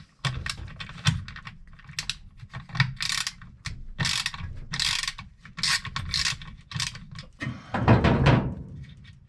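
A ratchet with a 1/4 inch socket clicks in quick bursts of pawl ratcheting while a washing machine part is removed, close up, with brief pauses between strokes and a heavier clunk near the end.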